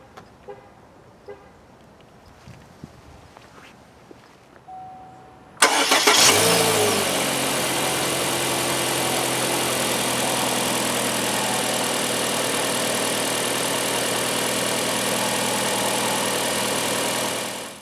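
After a few quiet shuffles, the 1.8-litre inline-four engine of a 2017 Chevy Sonic LS sedan cranks and catches loudly, then settles into a steady, even idle that continues to the end.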